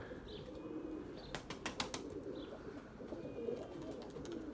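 Pigeons flap their wings in a quick burst of sharp, clattering beats as they take off on a calm, windless day, set against quiet outdoor ambience with faint bird calls.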